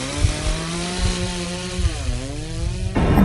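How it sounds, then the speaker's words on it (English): A chainsaw engine revs and drones loudly with a rising and falling pitch, running continuously before a sudden burst of harsher noise at the end. "the foreign man came while turning on the chainsaw"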